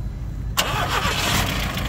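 A used car's engine cranks and catches after a quiet idle rumble, then settles into a steady running hum close by.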